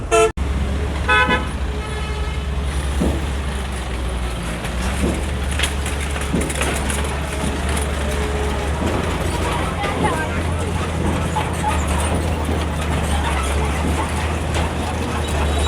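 Heavy traffic on the Dhaka–Rangpur four-lane expressway at Gobindaganj, Gaibandha, with a loud constant engine rumble, vehicles passing close by and a few horn toots, under faint background voices.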